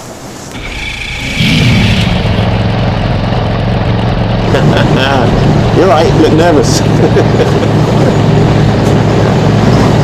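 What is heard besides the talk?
Tyne class lifeboat engines running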